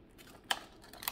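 Dollar Tree scissors snip through hard plastic packaging, giving two sharp, faint cuts spaced about half a second apart against quiet room background.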